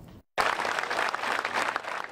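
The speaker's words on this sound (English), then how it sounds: "Applause in memory of a man who touched the lives of so many." Audience applause at a memorial tribute during a firefighter challenge event, a steady dense wash of clapping after a brief silent gap, continuous and fairly close.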